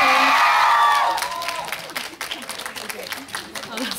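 A cinema audience at a Korean film's opening-day stage greeting bursts into loud applause and cheering as the director and lead actors enter, with an announcer talking over the clapping.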